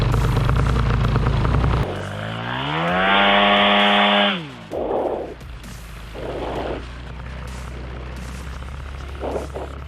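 An AliExpress paramotor engine is pulled through and catches, its whine rising as it revs up, then falling back to a lumpy idle that surges in short bursts.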